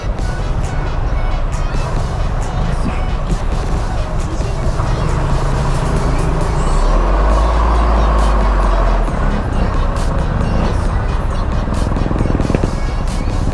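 Road traffic along Roxas Boulevard by the seaside in Manila, a steady loud wash of car and motorcycle engines with a heavy low rumble swelling midway, as if a large vehicle passes close.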